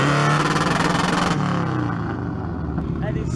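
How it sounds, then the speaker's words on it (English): An Audi RS3 engine hums and revs loudly and close by with a pulsing throb, then settles after a second or so into a lower, steady drone on a street. "Check out this gorgeous Audi RS3."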